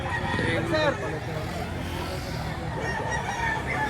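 A rooster crows briefly at a chicken market in Lipa, Batangas, where gamecocks are being priced, mixed into a dense bed of crowd chatter, other fowl and passing vehicle noise.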